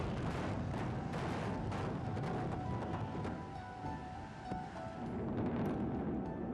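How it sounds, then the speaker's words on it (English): Implosion demolition of a Las Vegas landmark property, heard as a dense, continuous roar of rumbling blasts and collapsing debris from a distance, steady and heavy throughout with no talk. "In the 1990s, no fewer than 5 landmark properties are imploded to make room for new construction."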